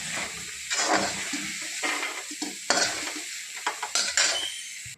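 A tomato roasting in a hot pan for a chili and jowar dish gives a close, steady sizzle, broken by repeated bursts of stirring and scraping.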